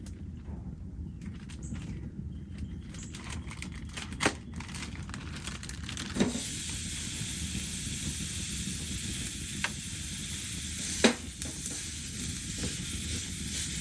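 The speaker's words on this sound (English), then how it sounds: "Let's cook the meat." Meat sizzling on an ultralight camping stove inside a hot tent, a steady frying hiss that grows fuller partway through, broken by a few sharp clicks and scrapes.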